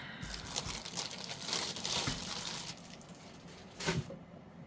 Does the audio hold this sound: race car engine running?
no